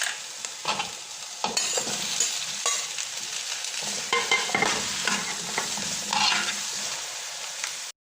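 Onion and tomato pieces fry in a pan for mole dulce, a steady close sizzle broken by repeated scraping stirs and clatters of a utensil against the pan.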